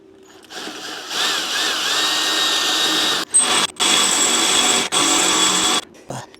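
Power tool snugging up a 19 mm bolt on a Jeep tow bar setup, several steady whirring bursts of a few seconds each, close and loud, with short pauses between them.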